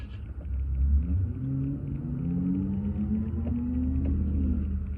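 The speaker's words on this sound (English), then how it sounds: "Excuse the loud car." A loud car rumbles past, its deep low engine drone and rising revs holding steady and prominent throughout, heard alone without talk.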